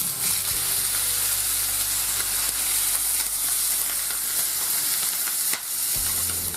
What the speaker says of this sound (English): Take a dry non-stick frying pan, medium heat, and we're just going to colorize the duckling for a few minutes.